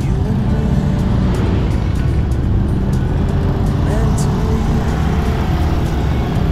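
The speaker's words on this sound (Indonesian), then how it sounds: "Terlihat beberapa kendaraan yang melintas mulai memenuhi jalan menuju Dieng." Steady road traffic on the way to the Dieng Plateau in Wonosobo, with cars, buses and trucks rolling past as a continuous loud rumble, a few passing swells rising above the constant engine and tyre noise.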